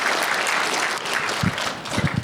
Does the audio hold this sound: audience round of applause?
yes